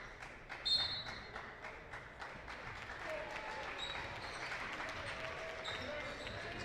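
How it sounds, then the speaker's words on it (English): A high school basketball team bench claps rhythmically during a holiday tournament game in a gym, faint and distant under crowd noise and an announcer's voice, with sneaker squeaks mixed in. "Hear that South bench clapping, trying to get their defensive energy up"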